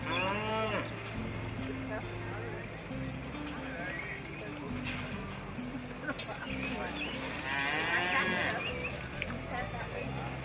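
Cattle low and moo in a rodeo cutting pen, a few calls rising over a steady arena murmur while a commentator keeps talking throughout.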